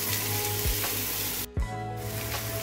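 Shredded cabbage cooks lightly in a pan on a gas stove, giving a steady soft sizzle with a brief scrape of stirring midway.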